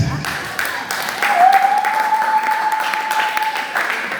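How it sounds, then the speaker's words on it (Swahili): A church congregation breaks into applause, a broad clapping wash rising after a brief voice and holding steady, with a sustained tone running through it. "Makofi kanisa"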